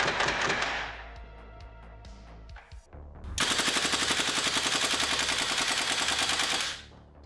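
A GHK AKM V2 gas blowback airsoft rifle fires two long full-auto bursts, each a rapid, evenly spaced stream of sharp, loud reports, separated by a short pause with mechanical clicks.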